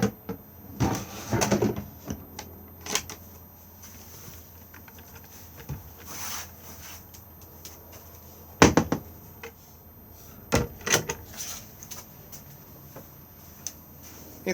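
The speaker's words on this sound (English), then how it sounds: "Cutlery drawer." In a Bailey Pegasus IV Genoa caravan, a cutlery drawer is pulled open and pushed shut, giving several sharp clunks and rattles spaced apart against a quiet interior.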